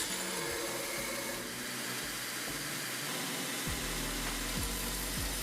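A bench grinder grinding the bevel of a knife blade, a continuous loud whirring drone with repeated short rising and falling pitch sweeps as the blade is worked against the wheel, no speech.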